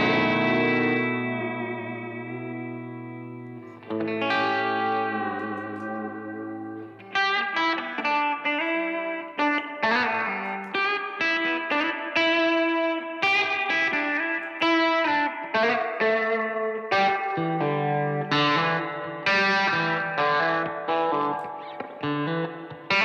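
Electric guitar notes and chords drenched in springy, wobbling spring reverb and echo, ringing out and smearing together with a trippy, effect-heavy shimmer.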